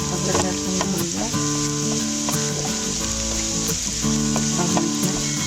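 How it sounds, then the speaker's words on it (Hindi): Ginger and garlic frying in ghee or oil in a pan, a steady close sizzle and crackle with occasional stirring scrapes under faint background music, continuous for a few seconds. "अदरक लहसुन भून जाए।"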